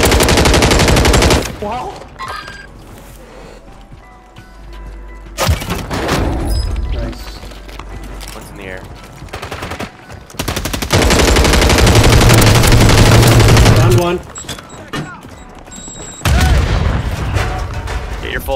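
Bursts of automatic gunfire and heavy booms in the Warzone 3 video game, loud and repeated, alternating with quieter gaps, with players talking excitedly over the action.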